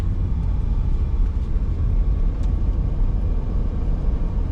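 A 2014 Perodua Myvi 1.3 SE with automatic transmission pulls away on a test drive, giving a steady, close engine-and-road rumble heard from inside the cabin with no talking.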